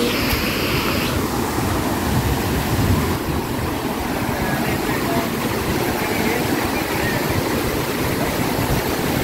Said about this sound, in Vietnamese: Đây này, nhìn cái thác này nè mọi người.